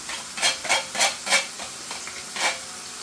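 Ginger and onions frying in a pan, heard as a series of about six short scraping, stirring bursts over a low sizzle, fairly close, with no voices.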